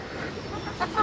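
A Sonali hen clucks briefly at close range, a short raised call near the end over steady farmyard background noise.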